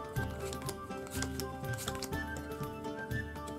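Dominion playing cards being dealt by hand, soft repeated snaps and light flicks of card on card at an even pace, close and quiet over faint background music.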